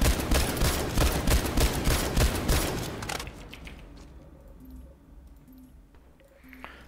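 A battle rifle in a video game fired in a rapid burst of dense, overlapping shots for about three seconds, then stopping, leaving only faint mechanical clicks and quiet game ambience.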